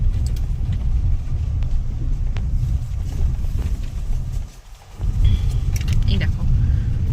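A Tata Tiago NRG drives along a narrow road through South Khayerbari forest near Jaldapara, its steady low engine and road rumble continuous and close throughout, with a brief dip midway.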